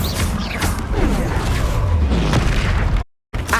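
Bombarda spell explosions and crashing magic effects in the video game Hogwarts Legacy, a dense, loud burst of booms and debris noise filling the clip before a brief drop to silence and a quick resumption.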